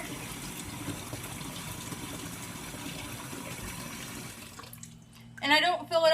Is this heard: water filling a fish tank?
yes